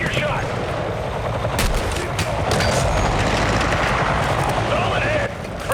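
Dense gunfire rattles through a night raid in Battlefield 6, loud continuous automatic bursts and booming impacts that hold steady before easing off near the end, with voices shouting over the fighting.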